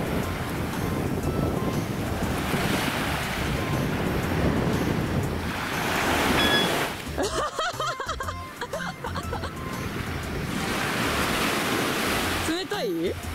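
Sea waves washing onto the shore at Itoshima, Japan, surging in broad rising and falling swells with wind buffeting the microphone, while people talk and laugh briefly over the surf in the middle stretch.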